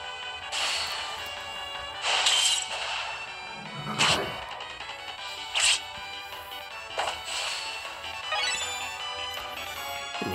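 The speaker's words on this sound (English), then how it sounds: "I like a little sound effect for Snake Shot." Snake Shot attack in the game Re;univerSe: a string of sharp whip-like cracks and bright chiming hits, several separate bursts spaced a second or two apart over a steady musical bed.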